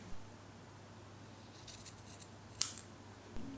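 Scissors snip at a fabric corner in a quiet room, a few light, crisp cuts spaced out, with one sharper close snip.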